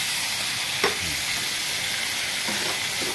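Squid fries in a pan with a loud, steady close sizzle, broken by a brief scraping knock of stirring early on and light utensil sounds later.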